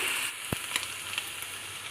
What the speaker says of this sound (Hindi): अब हमने लहसुन अदरक को अच्छे से इसकी भुनाई करनी है।